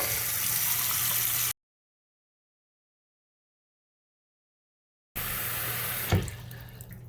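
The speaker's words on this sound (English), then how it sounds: "you see how quickly the water starts to back up into the actual sink" Tap water runs into a slow-draining sink, a steady splashing rush that cuts out to silence, then resumes with a brief gurgling bump.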